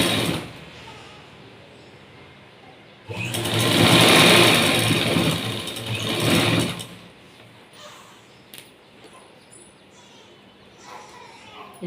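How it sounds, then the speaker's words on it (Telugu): A sewing machine stitches a blouse lining onto cut work in one steady, loud, fast run of about four seconds, preceded and followed by quieter handling noises and faint background sounds. "రెండు కలిపి స్టిచ్ వేసుకున్నాము."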